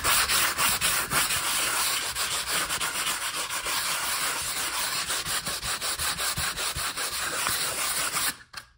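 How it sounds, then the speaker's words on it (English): Sandpaper rubbing over the edges of a dried lightweight spackling patch on an interior wall, heard as a steady, rhythmic scratchy back-and-forth that goes on close and alone for several seconds before stopping abruptly. "the next step will be to sand the edges so it bends more with the rest of the wall"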